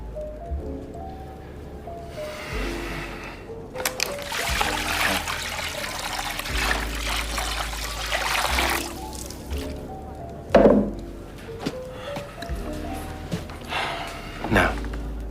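Water poured onto a Viking sunboard trickles and splashes in a scene from the Vikings series, heard through a steady bed of music and background noise with a few sharper splashes near the end.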